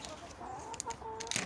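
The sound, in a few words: chickens clucking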